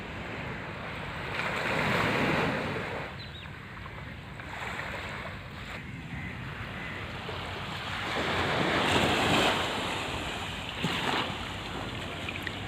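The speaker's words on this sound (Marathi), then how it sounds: "रिअल साऊंड पाण्याचा." Sea waves washing onto Siridao rock beach in North Goa, a continuous surging wash with swells building and receding, mixed with wind buffeting the microphone, no talking.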